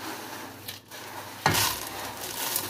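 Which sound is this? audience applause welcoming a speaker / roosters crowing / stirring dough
stirring dough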